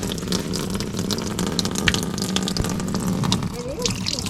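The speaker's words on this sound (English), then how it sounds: "And out comes the water." Water gushes from an old hand pump on a farm, a continuous splashing stream close by, with people talking over it.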